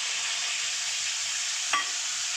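Whisked sour yogurt bubbling and being stirred in an oiled pan for a Kashmiri rasgulla dum, a continuous hissing sizzle with one faint scrape of the spoon near the end.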